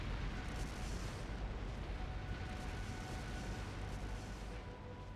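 Continuous low rumbling roar from explosive artifacts going off in a stone palace in Trails Through Daybreak, dense and sustained like distant blasts blending together, with no distinct single bangs.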